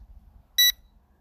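A single short, bright electronic beep from an L200 Pro Max drone sounds clearly over a low, rumbling background.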